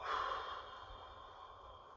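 A single long exhale, soft and breathy, flows out close up and trails off gradually, part of a belly-breathing exercise.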